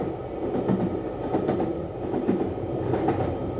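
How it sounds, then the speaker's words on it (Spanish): A train rolls steadily along rails with a dense rumbling roar and rhythmic clickety-clack of wheels, loud and continuous, with no voices. "los trenes empezaron a transportar prisioneros al Gulag"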